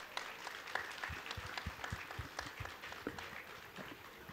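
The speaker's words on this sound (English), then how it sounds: "please give yourselves a round of applause" An audience at a cultural festival talk in India claps together, a dense, moderately distant patter of many hands with a few sharper individual claps, steady throughout with no voices.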